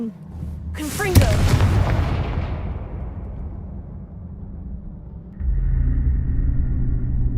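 A Confringo fire spell from Hogwarts Legacy bursts with a sharp blast near the start, then a long rumbling decay and a low sustained roar, with a voice at the opening.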